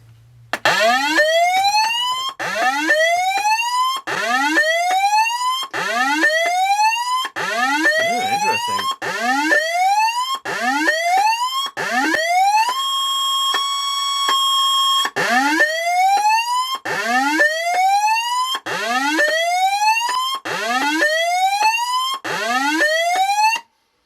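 A Pekon fire alarm evacuate sign siren powered at rising voltage, around 20 volts, sounds loud and steady: repeated rising whoops sweeping upward about once a second, broken mid-way by a few seconds of continuous flat electronic tone before the sweeping resumes.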